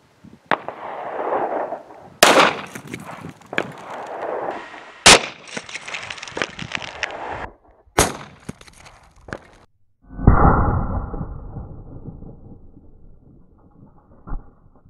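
A Ruger Blackhawk revolver in .357 Maximum fires 180-grain jacketed flat-point rounds outdoors. Several loud, sharp reports ring out at irregular intervals, each with a short decay, and one heavier blast is followed by a long fading rumble.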